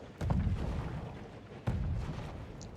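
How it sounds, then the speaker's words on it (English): Two deep booming impacts of mortar fire in the Conqueror's Blade siege game, the first near 0.2 seconds and the second sharper at about 1.7 seconds, each trailing into a low rumble of battlefield noise. "Counter mortar fire is slowly working. But there are more mortars out for Doc."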